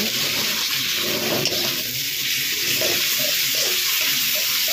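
Spices frying together in a pan for an egg and potato curry, a constant bright sizzle close by with faint scraping of stirring underneath and no speech.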